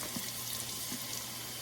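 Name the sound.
water filling the base of a giant flower stand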